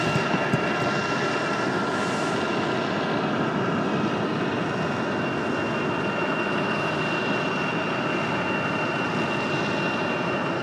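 Near and constant, a 23-year-old Delta Airbus A319 jet arriving from Miami at Raleigh-Durham airport produces a loud, even engine roar with a thin high whine, unbroken and without voices.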